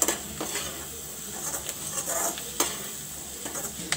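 Masala with garam masala and chilli powder frying in a pan for paneer butter masala, a soft continuous sizzle under repeated scraping stirs and light clinks of a spoon against the pan, with no talking.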